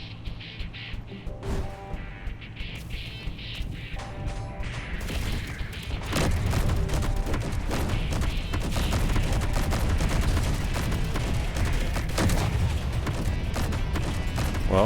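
Turret gunfire in the game Space Engineers during a survival-mode attack on large grid turrets: scattered shots at first, then from about six seconds a loud, dense, continuous barrage of rapid automatic fire with clattering impacts.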